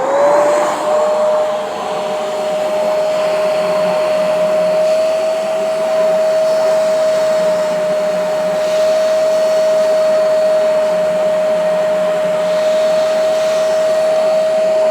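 Hoover Spotless portable carpet cleaner running steadily alone, a loud continuous motor whine with a fixed high tone and broad suction hiss held for the full length without pause.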